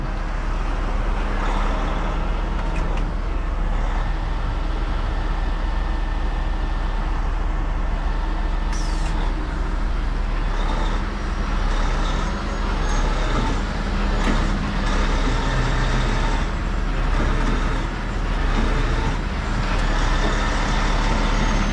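A tow truck strains to pull a stuck truck free, with a steady, loud heavy-diesel engine drone and low rumble running throughout and no talk.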